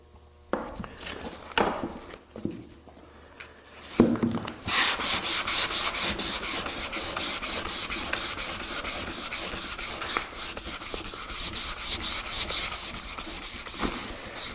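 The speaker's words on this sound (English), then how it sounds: "If I keep sanding, it's going to get way out here." Rapid, steady rubbing strokes of sandpaper on a water-based wood finish, close and fairly loud, running continuously after a few scattered scrapes at the start.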